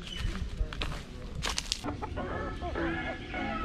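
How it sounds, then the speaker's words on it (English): Chickens cluck steadily in the jungle, close and fairly loud, with overlapping clucks and a few sharper squawks from several birds throughout. "Like, you can't go into a bush without seeing another freaking chicken."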